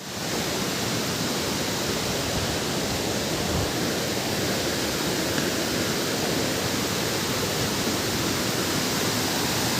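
Sawatkada waterfall in the Konkan region roars as a steady, dense wash of falling water, heard close and loud with no break for the full length.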